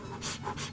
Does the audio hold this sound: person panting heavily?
yes